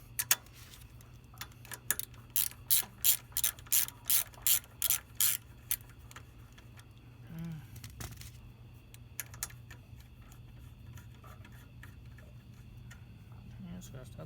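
A hand ratchet clicks in a quick run of about a dozen sharp strokes while removing bolts from a motorcycle rear set, then goes quieter with a few scattered clicks over a low hum; a voice speaks briefly.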